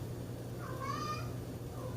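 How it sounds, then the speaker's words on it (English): A house cat meows once, a clear drawn-out cry over steady low background hum, while waiting to be given some rice in a kitchen during home brewing. "There's the cat going crazy because I won't let him have any rice."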